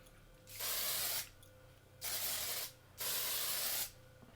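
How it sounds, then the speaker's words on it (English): Three separate hissing bursts of a makeup setting spray pump, each lasting under a second, spaced by short pauses, close and fairly loud against a quiet room. "it is a spray"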